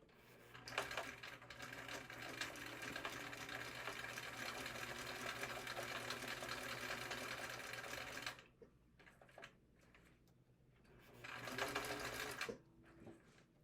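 A sewing machine stitches a minimalist fabric wallet in a long, steady whirring run, stops briefly, then gives a short backstitching burst before going quiet.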